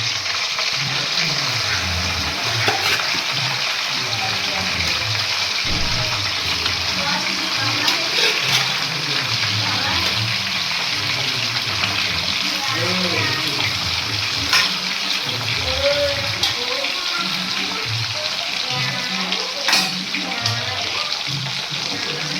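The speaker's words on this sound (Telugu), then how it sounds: "నెక్స్ట్ ఆయిల్ వేసుకొని చికెన్ బాగా ఫ్రై చేసుకోవాలి" Chicken frying in oil in a pan for a homemade chicken pickle, a steady loud sizzle with crackles and occasional stirring scrapes throughout, and a voice talking over it at times.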